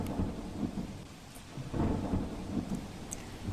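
Heavy monsoon rain pours steadily across North India while deep rolls of thunder rumble and swell, a dense, wide roar with no voices.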